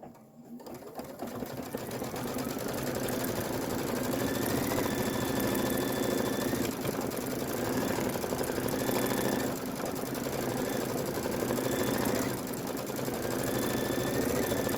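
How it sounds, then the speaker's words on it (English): An embroidery machine stitches a mylar flower placement line for a Kimberbell Halloween bench pillow block, giving a steady, close, rapid mechanical whir and chatter that runs without a break for the whole stretch. "go ahead and stitch the mylar flower placement line"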